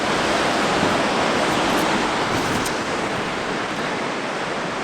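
A desert waterfall along the Hayduke Trail roars as a constant, loud, broadband rush of falling water, steady and close throughout with no voices.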